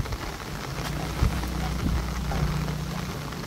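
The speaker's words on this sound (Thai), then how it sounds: "อากาศสดชื่นมากเลยค่ะฝนตกเปาะแปะเปาะแปะ" Light rain falls outdoors near a cornfield, a constant close, soft hiss of pattering drops with a few faint thumps, steady throughout with no speech.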